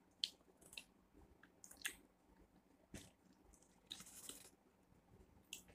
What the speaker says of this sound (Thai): มาเรามาลองชิมกันเลยดีกว่านะคะเราลองชิมแบบเปล่าๆกันก่อนนะคะ